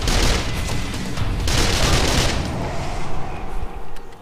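Rapid gunfire in the video game Call of Juarez: The Cartel, dense overlapping shots and bursts that are loud and close at first, then thin out into scattered reports.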